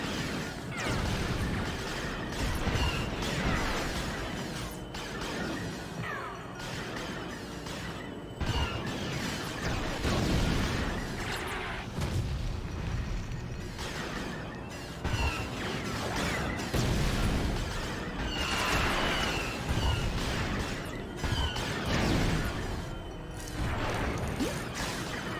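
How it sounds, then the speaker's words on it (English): Explosions and crashes in Lego Star Wars: The Complete Saga as torpedoes hit targets, a dense, continuous barrage of blasts, whooshes and smashing debris with game music underneath, loud throughout. "we will be able to take everything out with those torpedoes"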